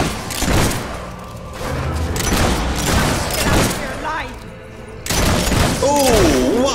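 Gunfire in the video game Fable 3, a dense run of loud booming shots mixed with game noise and chirping sounds, with a short break near the end.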